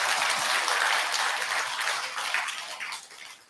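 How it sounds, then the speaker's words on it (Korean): A congregation at a Buddha's Birthday service breaks into brief, steady applause that softens and fades toward the end. "큰 박수 한번 부탁드리겠습니다"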